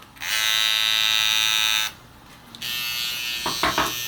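Cocco Veloce hair trimmer with a deep-tooth blade, a close, steady high-pitched electric buzz for about two seconds that stops, followed by a quieter resumed hum with a few clicks and handling noises.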